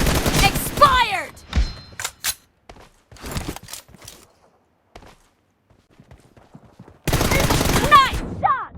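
In the PUBG Mobile video game, sharp bursts of gunfire crack in clusters with quieter gaps between them, then an intense volley near the end, mixed with some game voice lines.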